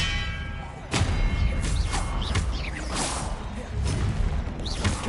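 Expelliarmus spell effects in Hogwarts Legacy: a series of whooshing swishes and sharp thuds, close and fairly loud, hitting in quick succession over a busy, noisy game backdrop.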